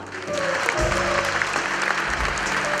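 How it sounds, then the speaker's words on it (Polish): Applause fills a hall at an awards gala for the twelfth Gmina Fair Play municipal competition, a dense, steady wash of clapping that swells and holds for about three seconds, with faint tonal sounds underneath. "Wielkie brawa!"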